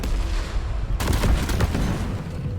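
A C4 charge detonates in the mining co-op game Deep Rock Galactic: one sudden loud blast with a rumbling, crackling tail that fades over a couple of seconds.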